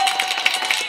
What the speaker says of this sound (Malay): Dan kita beri tepukan.